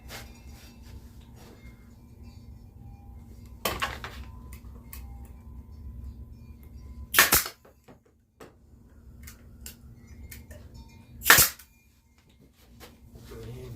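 A staple gun fires into a wooden flower planter with a few sharp snapping hits, two of them loud and distinct, over a faint background hum and light handling noise.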